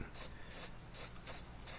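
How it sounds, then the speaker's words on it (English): A spray paint can hisses in five short, evenly spaced bursts while coating car drum brakes, each burst close and steady with brief pauses between. "let's just use this spray paint"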